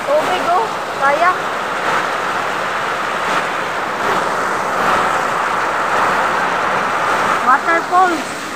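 A sudden heavy downpour roars steadily close by as a broad, constant wash, while people talk now and then over it.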